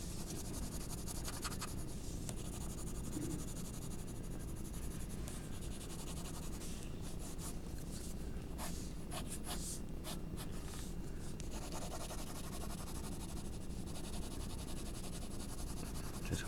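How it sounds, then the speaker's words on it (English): Graphite pencil shading on paper, with the pencil held on its side, gives a steady, close, soft scratching and rubbing that continues without pause, with brief quicker strokes partway through. "Just holding the pencil on the side just to help me shade it a little easier."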